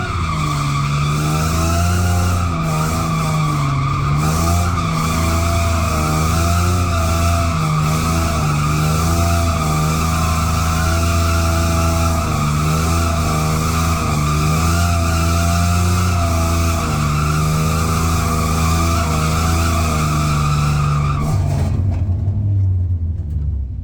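Cars tandem drifting, a loud continuous engine roar with tire squeal and skidding that holds steady for over twenty seconds before cutting out abruptly.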